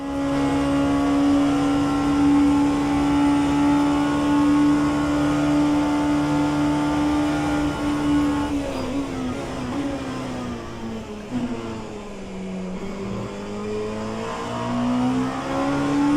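An Oreca LMP2 race car engine in rFactor 2 at Le Mans holds a loud, steady high-pitched drone that then drops and shifts as the car lifts and downshifts, pitch dipping and recovering.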